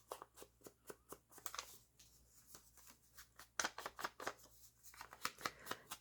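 Scissors cutting a finger hole in a paper envelope, a quiet, close series of short rhythmic snips and paper rustles, with no talking.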